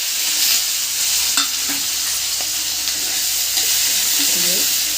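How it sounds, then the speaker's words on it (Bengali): Chopped garlic, onion, tomato and green chilli frying in hot oil give a loud, continuous hiss close by, with occasional light scrapes and clicks of a spatula stirring the pan. "এগুলো ভাজা ভাজা করে নেবো"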